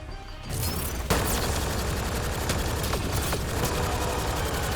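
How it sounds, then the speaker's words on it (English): Gunfire crackles from every direction in Mass Effect: Andromeda during a push toward a power relay, a dense, loud barrage of overlapping shots and booms that keeps up without a break. "I'm getting shot from everywhere."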